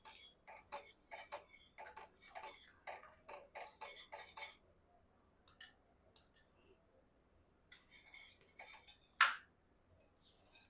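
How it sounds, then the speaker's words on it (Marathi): A spoon stirs custard milk in a pan, giving a quick run of light metallic clicks and scrapes, then a pause, then a few more taps and one sharper clink, close and fairly quiet. "2 ते 3 मिनिटं कस्टर्डचं दूध चांगलं मिक्स करून घेतलं सतत हलवत"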